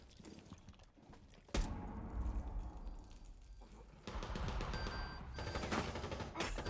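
Pistol gunfire in a competitive shooter video game match, sharp shot bursts punctuating a busy game mix with background ambience, several reports over a few seconds.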